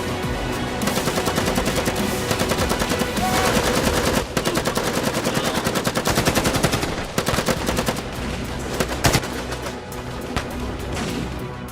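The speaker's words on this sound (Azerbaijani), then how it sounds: "Erməni postunda atışma var." Heavy machine-gun fire at an Armenian military post in a 2021 war film, with dense, continuous rapid bursts and sharp cracks that keep up loudly for the whole stretch without a pause.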